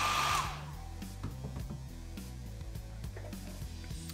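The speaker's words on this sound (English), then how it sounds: "Grab the hairdryer, no one's got time to watch paint dry." A hair dryer blows on freshly glazed miniature paint, starting as a loud close whoosh that quickly drops to a steady, softer airflow hum with faint clicks and knocks underneath.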